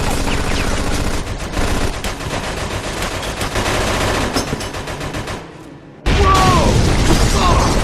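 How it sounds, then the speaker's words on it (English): Mafia II shooter game combat with heavy machine gun fire, dense sustained automatic bursts close and loud, briefly dropping away before another loud volley erupts. "Looks like we found the machine gun."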